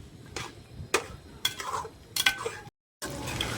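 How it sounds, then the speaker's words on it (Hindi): Beef karahi is stirred and fried in a pan over a high flame, with repeated scraping strokes and steady sizzling, loud and close, broken by a brief silence. "हाई फ्लेम पर हम बहुत ही अच्छे तरीके से इसको भून लेंगे"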